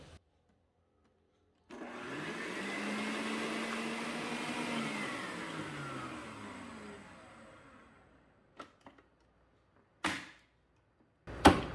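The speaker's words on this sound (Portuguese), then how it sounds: "Vamos bater até virar um creme claro e fofo." An electric mixer beating eggs with sugar and salt into a pale, fluffy cream runs loudly for about six seconds, then winds down, followed by a few short knocks and clatters.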